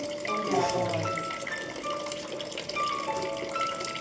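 Normal tap water pours into a home water ioniser, a light splashing gush with a faint tonal ring, brief and fairly quiet, with room sounds around it.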